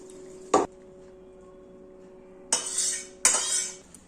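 A metal pot holding cooked shol fish kalia clanks as it is lifted off the stove, with three sharp scraping, clattering knocks separated by quiet pauses.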